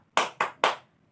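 A school class doing a rhythmic spirit clap: three crisp, loud unison claps in quick succession, evenly spaced, each ringing briefly before silence.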